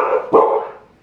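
A young Siberian Husky puppy gives a single close, loud bark on command, a short sharp burst that quickly fades into a quieter tail.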